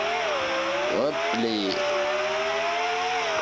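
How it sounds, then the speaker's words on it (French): A car engine runs steadily with a droning tone, dips and swoops through quick rev changes with a brief screech, then settles back to a constant hum. A short spoken interjection is heard over it. "Le bruit du moteur est pas mal."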